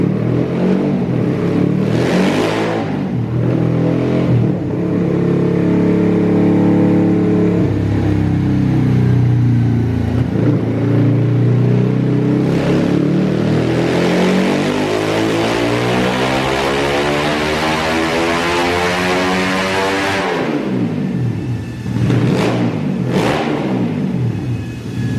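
A Honda Grom motorcycle engine running on nitro fuel revs hard and loud up close, pitch climbing steadily through a long pull before dropping, then a few short sharp blips.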